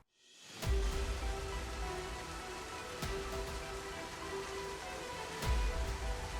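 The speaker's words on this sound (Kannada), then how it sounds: "ಇನ್ನು ಕರಾವಳಿಯಲ್ಲೂ ಮಳೆ ಅಬ್ಬರಿಸ್ತಿದೆ" Steady, dense monsoon rain pours down on coastal Karnataka in a continuous broadband hiss, heavy and close, with a few louder splashes or thumps breaking through.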